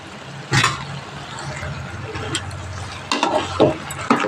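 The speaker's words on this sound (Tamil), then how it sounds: "வெண்டைக்காவை போட்டு நல்லா ஒரு கிளறிக்குவோம்." Okra being stirred into a spicy tomato curry in a pan, with a few scraping spoon strokes and soft sizzling bursts separated by quieter stretches.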